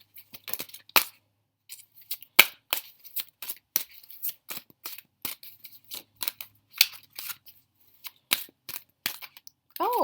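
Oracle cards from an Angel Dream Oracle deck being shuffled and drawn, heard as a run of sharp, close papery snaps and flicks in irregular bursts, alone with no talking.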